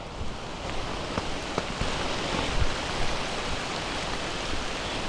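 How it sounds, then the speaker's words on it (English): Rain and hail striking the ground along a forest trail on the Appalachian Trail, a steady broadband patter with scattered sharper ticks of bouncing hailstones, no voices. "I think this is hail bouncing off the ground"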